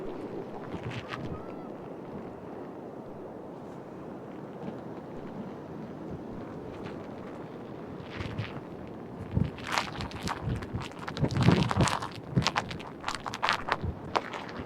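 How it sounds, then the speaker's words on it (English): Gusty wind from Hurricane Ian at Myrtle Beach buffets the microphone, steady at first then rising into louder rough bursts, with faint background noise. "it's getting very windy out here"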